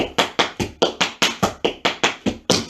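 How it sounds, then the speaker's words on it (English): Tap shoes strike a floor in a crisp, evenly spaced series of about a dozen sharp taps, with step, shuffle and ball-change beats and a hand clap, close and loud with no talking. "Step, shuffle, ball change, and a clap."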